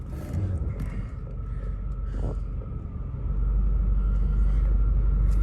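A 1996 Chevrolet Corvette C4 idles with a low, steady rumble that deepens and grows louder about halfway through as it is shifted into reverse.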